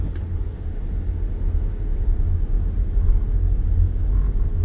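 A car driving along a town street in Myrhorod, heard from inside as a steady, loud low rumble of engine and road noise with no talk.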